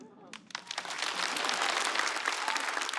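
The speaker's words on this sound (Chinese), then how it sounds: "感到快乐你就拍拍手。" Audience applause at a live stand-up comedy show in a Chinese comedy club, dense clapping building up after a few sharp early claps and holding steady and loud throughout.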